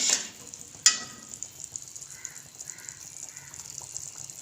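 Ghee and sugar cooking together in a pan for a sooji halwa syrup, a faint, soft sizzle beneath a few sharp clinks, with a crow cawing in the distance.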